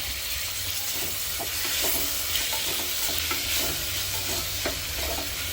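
Ginger garlic paste and tomatoes fry in a pan on a low flame, giving a steady close sizzle with soft stirring scrapes throughout and no voices.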